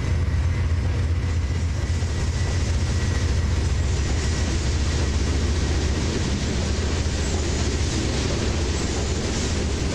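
A simulated train in the Trainz simulator game rolls steadily along, a constant loud rumble with rail clatter from the wagons throughout, and no talk.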